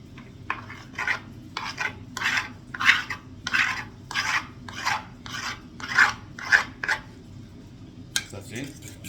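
Cheese grated by hand for a carbonara sauce: about a dozen quick, rhythmic rasping strokes, close and fairly loud, with a brief clatter at the end.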